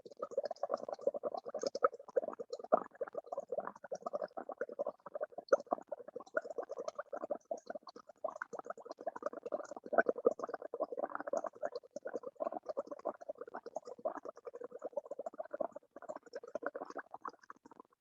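Breath is blown through an alkaline indicator solution, making a close, continuous bubbling gurgle with dense irregular pops that runs steadily for the whole stretch.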